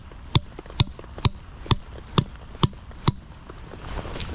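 Seven evenly spaced sharp knocks ring out as bank sticks are hammered into the bank while fishing in the rain, each strike crisp and close over a quiet outdoor background.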